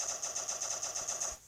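Rapid automatic gunfire in the video game Block Strike, a fast even rattle of shots running continuously for over a second, loud and close with no talk.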